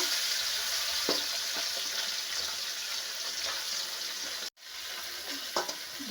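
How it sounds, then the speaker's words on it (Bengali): Mola fish frying in hot mustard oil in a kadai: a steady close sizzle with occasional clinks and scrapes of stirring, and a brief dropout of sound midway. "তেলটা গরম হয়ে গেছে এখন এই মাছগুলো ভেজে নেব"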